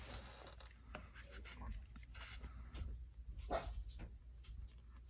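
A dog whimpers and gives soft barks at a distance in a home, faint and intermittent under indistinct background talk and low room hum.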